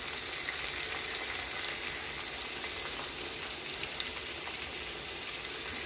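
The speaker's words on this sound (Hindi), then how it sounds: "और इसको भी थोड़ी देर इसके साथ भून लूँगी।" Cabbage with potatoes and carrots frying in a pan gives a steady, even sizzle with a dense crackling hiss that runs unbroken throughout, with no voices.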